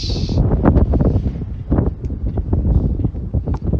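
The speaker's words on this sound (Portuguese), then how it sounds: "Tá ventando muito, viu?" Strong gusting wind buffets the microphone outdoors during a long-range drone flight, a heavy low rumble that surges and fades continuously, with no clear voices.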